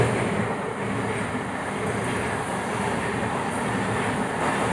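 Near a train station, a train rumbles past with a steady broadband roar that holds at an even loudness throughout, close by and with no one talking.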